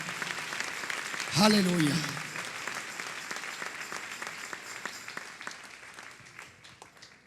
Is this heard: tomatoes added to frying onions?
no